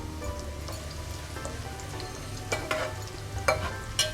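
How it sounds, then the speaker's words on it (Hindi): Whole spices, including star anise, cloves and black peppercorns, fry in a pot with a quiet crackling sizzle like light rain, followed by a few sharper spoon taps and pops near the end. "1 मिनट के लिए हम इसको भूनते हैं ताकि जो हमारा गरम मसाला है उसकी बहुत अच्छी सी खुशबू आ जाए।"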